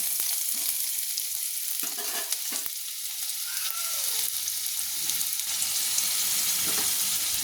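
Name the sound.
chopped garlic frying and being stirred for barbati aloo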